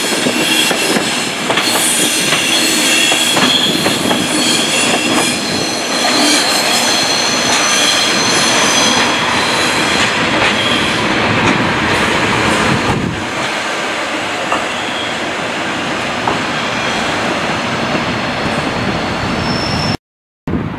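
A train pulls into York station with loud, sustained wheel squeal and rumbling rail noise, close by and continuous for about twenty seconds with no talking.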